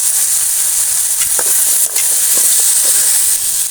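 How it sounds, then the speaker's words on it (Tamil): Pirandai chutney ingredients with tamarind and coconut pieces sauté in a pan, giving a loud, steady steamy hiss with faint stirring clicks. "இப்போ அந்த தேங்காய் சில்லையும் போட்டு வதக்கிக்குவோம்"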